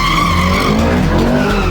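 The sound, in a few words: Ferrari California tyres skidding on slippery road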